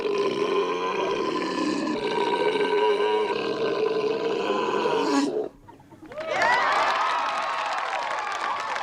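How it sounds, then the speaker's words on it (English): A long, loud, drawn-out burp from a belching contest in the 1984 film Revenge of the Nerds, rumbling steadily for about five seconds before a short gap and a second raspy, roaring belch, with crowd noise underneath. "Ogre lets out a very impressive burp, but nothing can beat the burp that Booger had"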